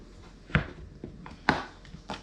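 Knife chopping through raw potatoes while cutting them into skinny fries, four distinct cuts with thuds on the board, close and fairly quiet with pauses between strokes.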